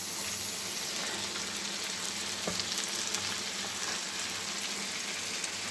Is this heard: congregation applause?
no